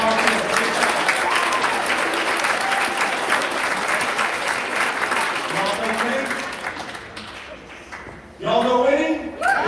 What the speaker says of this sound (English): How about a huge round of applause for our volunteers?